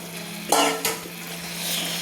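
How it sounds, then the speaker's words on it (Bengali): Marinated chicken stirred into masala with a metal spatula in a hot pan: two quick scraping strokes over a steady, close sizzle. "এইভাবে একটা খুন্তি দিয়ে মশলার সঙ্গে নেড়ে নিচ্ছি।"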